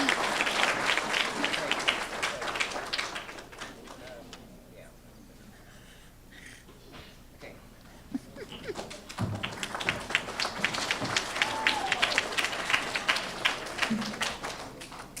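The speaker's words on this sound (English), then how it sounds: "Let's give Mr. Morris a round of applause." Audience applause at a fourth-grade awards ceremony, a sustained patter of many hands that dips to a quieter lull midway and then swells again, with a few sharper claps and background chatter.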